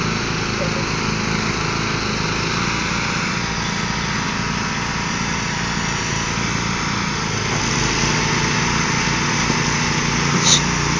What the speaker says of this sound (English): Poor Nate, he's got the weaker mower.